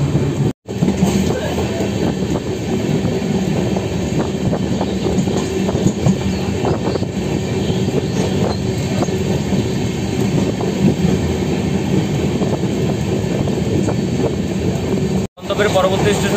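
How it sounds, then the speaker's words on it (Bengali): Inside the Kanchan Kanya Express as it pulls out of Kamarkundu station, a loud continuous rumble of rolling wheels and carriage clatter fills the space, with a voice talking over it. "দেখতে পাচ্ছি বন্ধুরা, কামারকুণ্ড স্টেশন থেকে আমাদের ট্রেন ছেড়ে দিচ্ছে"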